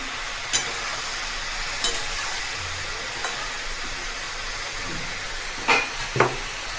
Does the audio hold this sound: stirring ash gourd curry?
yes